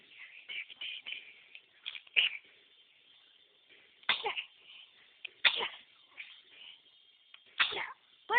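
A baby sneezes repeatedly: several short, sharp bursts spaced a second or two apart, close and fairly loud, with quiet shuffling between them.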